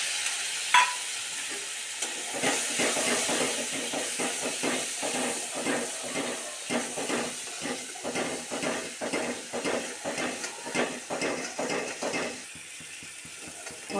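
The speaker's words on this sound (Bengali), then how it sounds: "মশলাটা আমার খুব ভালো করে ভাজা হয়ে গেছে" Cumin, turmeric, salt and chili frying in a pan with onions for an egg curry, a steady sizzling hiss broken by rhythmic scraping strokes of a spatula stirring, close and continuous, no talking.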